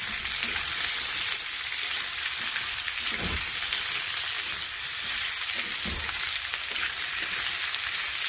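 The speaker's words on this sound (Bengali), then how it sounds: "ফুলকপি চুনো মাছে ভালো লাগে, তাই চুনো মাছ দিয়ে ভাজা" Cauliflower fries alongside small chuno fish in oil with a dense, even sizzle that holds steady, plus occasional dull knocks of stirring in the pan.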